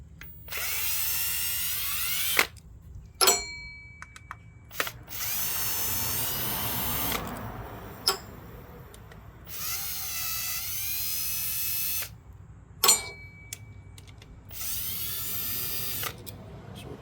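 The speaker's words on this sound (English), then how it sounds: "Switch over to the drill, make this a little faster." A power drill with a 10mm socket whines in several bursts of a few seconds each, with brief pauses between, as it removes the coil pack bolts on a 2010 Toyota RAV4 during spark plug replacement; loud and close.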